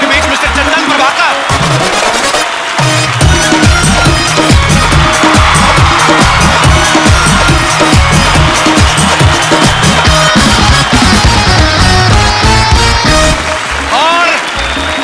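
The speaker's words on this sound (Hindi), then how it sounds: "और आपकी जोरदार तालियों के बीच मिस्टर चंदन प्रभाकर।" Studio audience at a comedy talk show clapping and cheering, loud sustained applause with whoops filling the room after a brief opening, while a host speaks over it.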